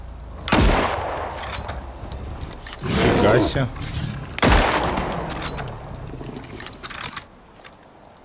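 Gunfire in the survival video game ICARUS during a bear hunt: three loud sharp shots at spaced intervals, each trailing off, mixed with game ambience and someone talking.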